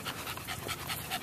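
A dog pants rapidly and close by on a beach, with quick rhythmic breaths and no talk.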